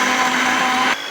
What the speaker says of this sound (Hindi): ब्लेंडर में डाल के हम इनकी प्योरी बना लेंगे।